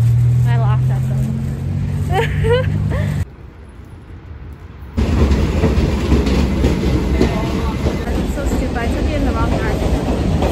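Rail journey with a steady low rumble and rhythmic wheel noise on the track, a quieter stretch midway, then louder running; people talk over it near the start.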